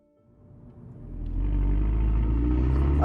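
Engine of a revised Mercedes A45 AMG hatchback with 380 horsepower builds from near silence into a loud, steady drone as the car accelerates, with no talk over it.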